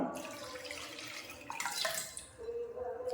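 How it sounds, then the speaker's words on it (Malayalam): Water and tamarind pour steadily into a pot for rasam up close, a continuous splashing gush that shifts in pitch as the container fills. "ബാക്കി കുറേ പുളിയും കൂടെ വെള്ളവും കൂടെ ഒഴിച്ചു കൊടുക്കുവാണ്"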